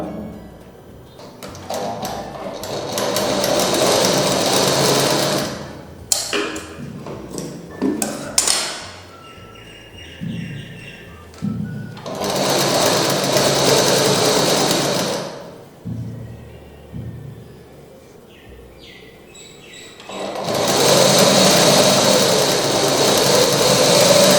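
A tailoring sewing machine runs in three long, steady stitching bursts through fabric, loud and close, separated by pauses filled with clicks and handling noises.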